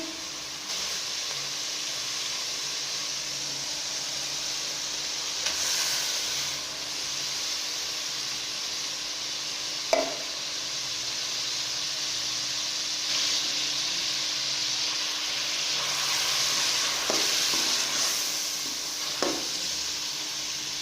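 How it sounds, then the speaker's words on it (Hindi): Goat brain goes into a pan of fried chillies, setting off a continuous loud hissing sizzle with occasional faint clinks of a spoon, close and with no voices. "अब हम इसमें मगज डालेंगे।"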